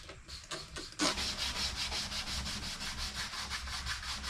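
A green Scotch-Brite pad scrubs the paint of an Audi A4 B6, starting with a few short strokes and then settling into a steady, close, continuous rubbing that runs through to the end with no talk.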